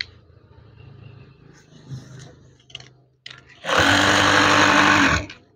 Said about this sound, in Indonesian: Kemudian jahit lagi dengan lipatan bagian atas ini adalah 2 cm.